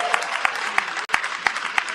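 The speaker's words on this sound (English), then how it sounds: "Let's give him a big round of applause." Crowd applause with steady clapping and a few sharp individual claps standing out, sustained across the moment.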